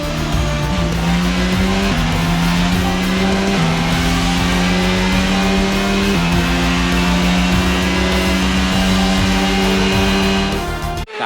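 Formula 1 cars at the Austrian Grand Prix, a loud close high-revving engine howl climbing through repeated upshifts in a steady stepped pattern, cutting off abruptly at the end.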